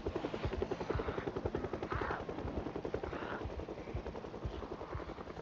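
Helicopter in the video game Project Zomboid, a rapid rotor chop thudding steadily and loudly overhead for the whole stretch, with a broad engine roar beneath the beating blades.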